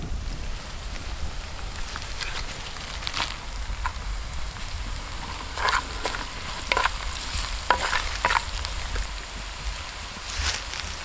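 Fennel seeds are stirred into a hot, sizzling pan while cooking a tender coconut roast curry, a steady low crackle of frying under scattered sharp scraping strokes of the spoon, close and alone with no talk.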